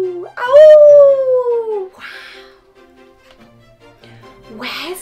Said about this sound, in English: What does the wolf say?